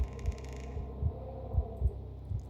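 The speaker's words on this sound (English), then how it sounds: "Oh, the heartbeat." Heartbeat ambience in the Mystery Phantoms ghostly adventure game, a deep, muffled lub-dub thumping in regular pairs over a low hum, close and moderately loud.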